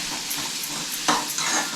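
Onion frying in a pan for a festival meal, a steady soft sizzle with a couple of stirring scrapes of a spoon against the pan, close and moderately loud, no talking.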